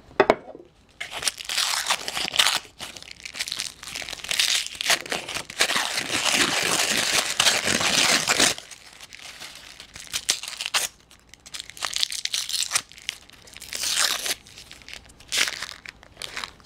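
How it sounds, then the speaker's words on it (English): A taped paper coin roll wrapper of nickels is torn open with crinkling, tearing and crunching paper sounds in close, uneven bursts. "so I'll open the wrapper right here"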